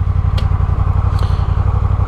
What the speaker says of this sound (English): you'll get to hear the rev matching or throttle blips on it, and then we'll compare that to what the Coffman sounds like